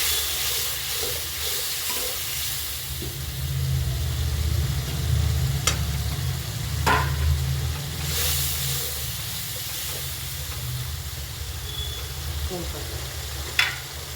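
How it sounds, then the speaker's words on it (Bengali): Chili, coriander and cumin powder frying in a pan while cooking potol, giving a steady close hiss and sizzle with a low rumble, a few sharp clicks and scrapes from stirring, and no talk. "এবার আমরা মশলাটাকে ভালো করে ভেজে নেব"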